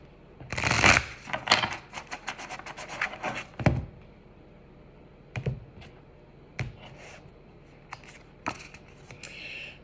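A deck of Universe Has Your Back oracle cards being shuffled up close: quiet, crisp bursts of riffling and flicking, with tapping clicks and short pauses between them and no talk.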